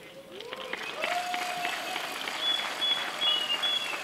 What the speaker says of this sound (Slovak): potlesk pre nich